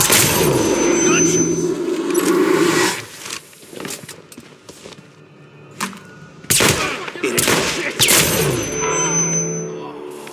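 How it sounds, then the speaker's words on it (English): Rapid bursts of gunfire in the video game Hitman Absolution, loud clustered shots in two long volleys separated by a quieter stretch, with game noise and talk around them. "Gunshots!"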